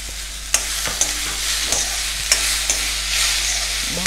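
Vegetables and tomatoes fry in a pan for savoury vermicelli, a steady broadband sizzle broken by sharp scrapes and clanks of stirring every second or so, close and fairly loud, with no talk.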